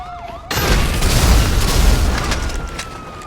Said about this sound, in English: look at those explosions, man.